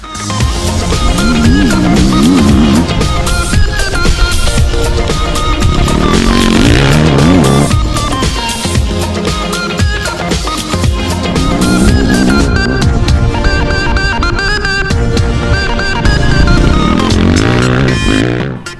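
Motocross motorcycles accelerating on a track, loud buzzing engines rising and falling in pitch with repeated revving surges, several bikes overlapping up close for the whole stretch, with no talking.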